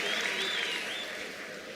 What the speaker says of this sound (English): Let's give Tsehu a brilliant